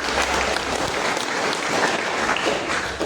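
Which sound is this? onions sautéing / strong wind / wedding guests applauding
wedding guests applauding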